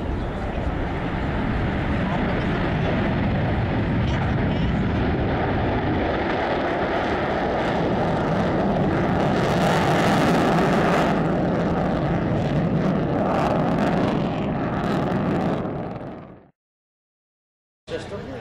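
A B-1 Lancer military jet takes off at an air show, a loud sustained roar building and crackling as it passes, then cutting off abruptly near the end, with an announcer talking over it.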